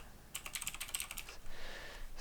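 Quick run of keystrokes on a computer keyboard, close and quiet, a rapid burst of clicks followed by a brief rustle.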